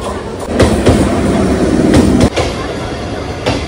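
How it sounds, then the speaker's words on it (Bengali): A Habra local commuter train at Barasat railway station rumbles close by with low clattering and brief metallic knocks, a continuous loud rolling sound across the whole stretch. "স্টেশনে এসেই আমি ওয়েট করছিলাম হাবড়া লোকালের জন্য, আর ওয়েট করতে করতেই চলে আসলো আমার ট্রেনের টাইম।"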